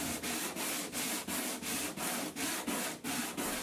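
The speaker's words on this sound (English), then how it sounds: "I sand down until I have a flat surface" Fibreglass joins on a catamaran deck being sanded by hand: about ten steady rhythmic back-and-forth rubbing strokes, close and fairly loud, with no talking.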